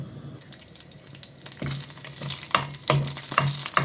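Whole spices, including cardamom, cloves, cumin, cinnamon, bay leaf, dried chilli and star anise, frying in hot oil in a pan, a close crackling sizzle that grows busier midway, with sharp pops and stirring clatters.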